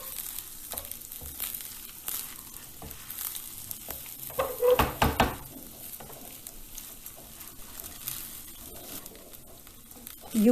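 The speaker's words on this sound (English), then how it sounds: "So on low heat, roast the rice and lentils till they turn glossy." Rice and lentils roasting in oil or ghee over low heat for Bengali khichdi give a soft, steady sizzle with scraping stirs and grainy rustling, louder in brief bursts midway, close and quiet with no talking.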